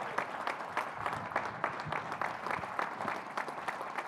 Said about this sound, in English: Coach Fuller and Coach Woodson, give them a round of applause